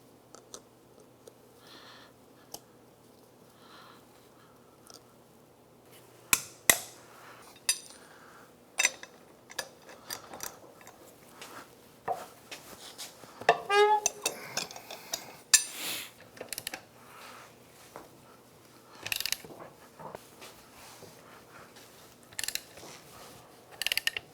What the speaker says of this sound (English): let's go ahead and take out our cotter pin, then break that axle nut loose.